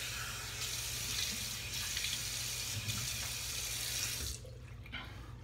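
A tap runs into a sink while a face is wetted before a shave with a safety razor, a steady soft splashing that cuts off near the end, quiet room tone after.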